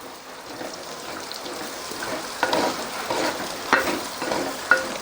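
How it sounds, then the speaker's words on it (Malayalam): Chopped onion tipped into a pan of frying potato for a Kerala-style prawn roast, a soft, steady sizzle with a few louder pops and crackles near the end, no voices. "ഇനി നമുക്ക് ഉള്ളി കൊടുക്കാം. സവോള അരിഞ്ഞത് കൊടുക്കുന്നുണ്ട്."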